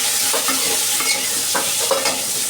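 Cut mangoes dropped into hot oil with mustard seeds sizzle loudly in a pan, a dense continuous frying hiss with a few stirring scrapes, close up.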